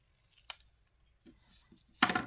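Scissors trim a paper doll's dress with a few quiet, separate snips, ending in one sharper, louder cut in a quiet room.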